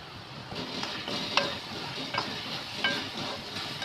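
Pasta masala spices with oregano frying in a pan, a soft steady sizzle broken by a few clinking stirs of the spatula, close and fairly quiet.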